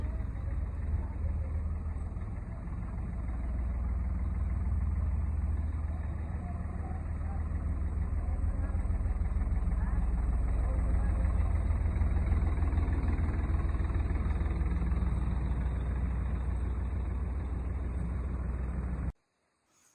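A low, steady old tractor engine idles continuously with a deep rumble, constant in level throughout, then cuts off abruptly near the end.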